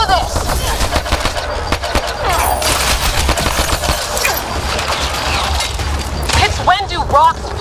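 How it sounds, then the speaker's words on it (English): Gunfire during a firefight in the video game Mass Effect Andromeda, with dense, continuous bursts of weapon shots and booms layered over a loud battle background, with excited voices and combat noise mixed in. "Just keep firing. We can do this."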